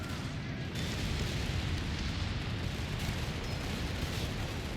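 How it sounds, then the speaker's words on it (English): Satchel charge blast in Company of Heroes 3 during a 4v4 King of the Hill match on Monte Cavo, heard as a dense, loud, sustained explosive rumble filling the whole stretch with low booming energy, with faint commentary underneath. "A satchel is thrown."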